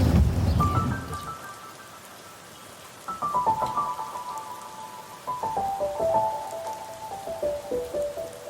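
Rain falls steadily on an April afternoon, a soft continuous patter with a few distinct drops, heard alone under faint tonal music.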